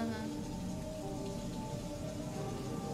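Heavy, stormy rain in a film scene, a steady dense wash of downpour filling the whole stretch with constant hiss and patter at even loudness.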